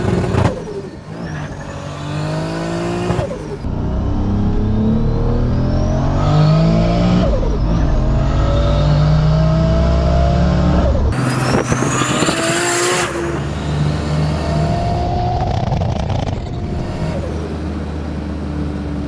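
Tuned 900 hp Toyota Supra with a turbo engine, revving hard and driving: loud repeated rising acceleration pulls through several gears, brief lifts between them, a close throaty roar throughout.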